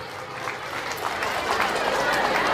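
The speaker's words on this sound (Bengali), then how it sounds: "একবার জোরে হাততালি বাবুরাম মণ্ডলের জন্য" An audience claps loudly and steadily for the performer Baburam Mondal at a Golden Jubilee event, a brief swell of applause that rises toward the end.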